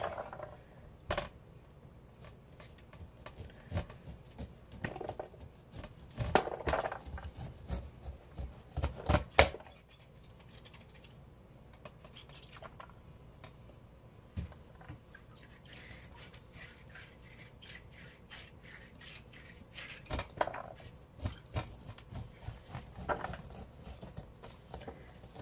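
A knife cuts fresh corn kernels off the cob for canning, producing soft scraping and crisp patters in irregular clusters, close but quiet, with pauses between strokes.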